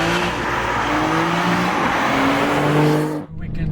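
A BMW M3 Competition G80 in track mode and all-wheel drive pulls hard along a mountain road, its engine roaring steadily with rising and shifting tones and road noise beneath, then cutting off abruptly near the end.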